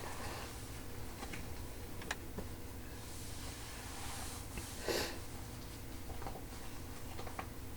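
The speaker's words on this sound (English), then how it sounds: "I apologize if you hear me sniffle a little bit" A brief, soft allergy sniffle stands out once around the middle, with faint clicks and light breathing scattered over a steady low background.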